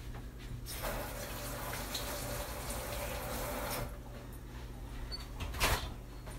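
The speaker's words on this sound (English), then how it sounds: "let me wash my hands" Tap water runs steadily into a kitchen sink as hands are washed, a close, even rush of about three seconds that then stops, followed by a brief clatter.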